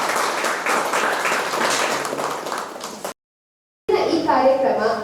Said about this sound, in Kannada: ಜೋರಾದ ಚಪ್ಪಾಳೆಯೊಂದಿಗೆ ವೈಷ್ಣವಿಯ ವಿಶೇಷ ದಿನವನ್ನು ಆಚರಿಸಲು